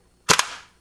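A single sharp, close snap of an airsoft AK-series rifle with an RA Tech trigger set dry firing, a quick double crack that rings out and decays within about half a second.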